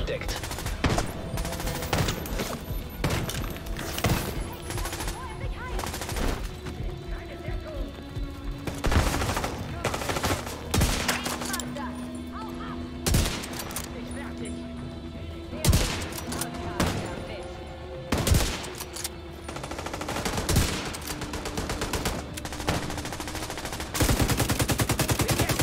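Gunfire in The Division 2 rattles on through most of the stretch, close sharp shots and machine-gun bursts loud and repeated, with someone talking over the fighting.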